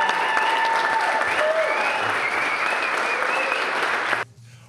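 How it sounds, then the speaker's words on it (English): A studio audience on a sports report show claps steadily and fairly loudly, with a few cheers over the applause, before it cuts off abruptly near the end. "Could you give a round of applause for..."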